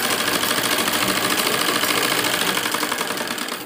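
Close, loud sewing machine running continuously, stitching a sleeve seam on a readymade dress with a fast, even mechanical whir that eases off at the end.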